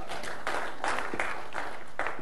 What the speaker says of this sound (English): Whoever he is, he just got applause.